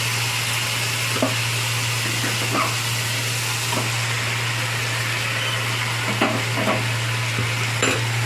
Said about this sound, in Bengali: এবার আমি এর মধ্যে মোচাটা মিশিয়ে দেবো